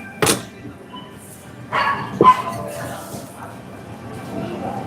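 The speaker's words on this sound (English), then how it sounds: "Someone's dog is barking non-stop over here." A dog barks a few times from some distance outside a work kitchen, with scattered, uneven barks over a low background hum and no clear talk.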